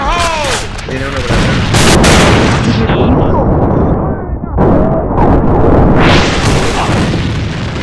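A grenade goes off in a video game firefight, with a string of booming blasts and crackling gunfire, loud and close, while voices shout over the chaos.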